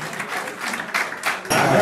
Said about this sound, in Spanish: les renovamos el aplauso para los dos grandes